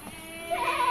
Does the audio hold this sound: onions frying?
no